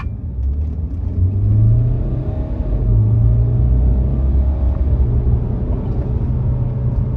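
Low, steady engine rumble from a BMW 520d F10 diesel sedan (184 hp, rear-wheel drive) accelerating in sport mode, pitch rising in stretches with a shift in between, heard from inside the cabin with no speech.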